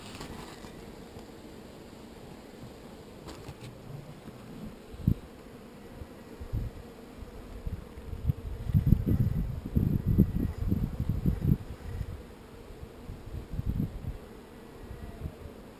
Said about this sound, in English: That's a fly, because it's only got one set of wings.